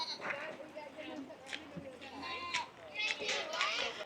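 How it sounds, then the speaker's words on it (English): Baby goats at a farm orchard in Cambridge, Iowa bleat repeatedly in thin, wavering calls, fairly distant, while people chat and children play nearby. "there are all kinds of baby goats over here"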